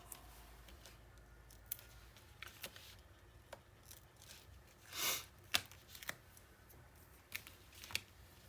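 Backing sheets being peeled off chipboard pieces for a beach-themed 8x8 paper mini album, with soft scattered papery snaps, rips and light clicks close by in a quiet room, one longer tearing peel standing out midway.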